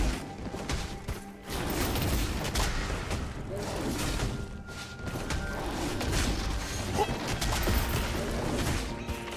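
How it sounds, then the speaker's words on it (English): A turret is destroyed during a League of Legends LCK Summer 2023 match between T1 and KDF, heard as a dense barrage of crashes, booms and mechanical impacts amid busy game effects and a spoken announcer line, loud and continuous. "Your team has destroyed a turret."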